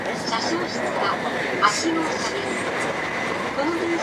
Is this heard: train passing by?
yes